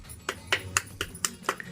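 A child claps hands about seven times in a steady, slightly uneven rhythm, sharp close slaps with short pauses between them and a quiet room behind.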